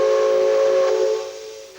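A steam locomotive whistle sounds one long, loud, steady blast before departure. Steam hisses beneath it, and the whistle fades toward the end.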